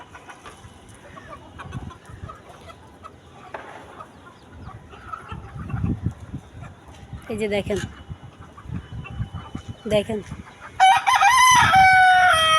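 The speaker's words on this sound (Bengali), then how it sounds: "এখানে দেশি মুরগি" Native deshi chickens cluck at a farm where they are raised, with several rooster crows standing out near the end; people talk throughout.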